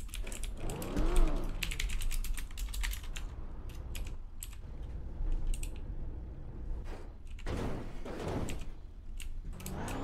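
A computer keyboard is typed on during an online game, with quick clusters of clicky keystrokes and a mechanical rattle near the start, heard close and alone without speech.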